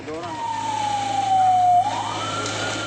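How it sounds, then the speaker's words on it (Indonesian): Fire engine siren wailing at an office building fire, a loud rising and falling tone over a steady engine rumble, with a voice speaking underneath. "4 unit mobil pemadam kebakaran dikerahkan ke lokasi kejadian"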